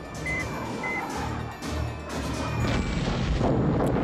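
Sustained movie explosions as an oil rig is blown up in the film Iron Eagle, a loud continuous rumbling roar with crashing bursts, overlaid by a faint high beeping tone.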